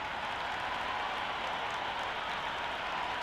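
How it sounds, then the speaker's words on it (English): A packed cricket stadium crowd at a Hobart Hurricanes versus Perth Scorchers match roars steadily before play begins, a broad, continuous wash of cheering and noise with no breaks across the whole stretch. "already the crowd making a hell of a racket"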